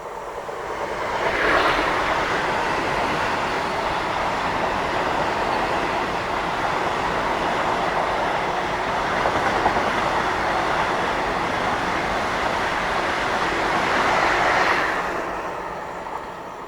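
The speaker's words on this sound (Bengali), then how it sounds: "আর তার পাশ থেকে ঠিক ঢুকছে হাওড়া নিউ জলপাইগুড়ি বন্দে ভারত এক্সপ্রেস" The Howrah–New Jalpaiguri Vande Bharat Express passes alongside a Kolkata local train, a broad steady roar that swells in, holds loud and close for over ten seconds, then fades, with faint rail clatter underneath.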